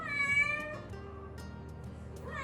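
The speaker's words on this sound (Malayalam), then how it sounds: "അതിനിടയ്ക്ക് എൻ്റെ പൂച്ച വന്നു." A pet cat meows indoors nearby: a clear, fairly quiet drawn-out meow, then a softer low murmuring call, with a faint rising cry at the end and no talking.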